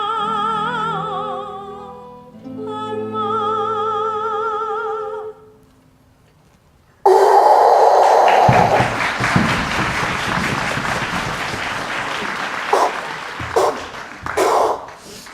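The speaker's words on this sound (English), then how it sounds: "blowing your nose and shuffling your feet to show your appreciation" Sung Vivaldi music ends, a brief hush, then a broad, noisy rush of audience sounds, nose blowing, rustling and shuffling feet with scattered thumps, continuing steadily.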